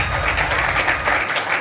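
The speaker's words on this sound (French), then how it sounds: "Est-ce que vous pouvez applaudir, s'il vous plaît, que l'on sente?" Students in an audience applaud, producing a dense, even patter of many hands clapping. It fills the whole short stretch at moderate loudness, with no voices over it.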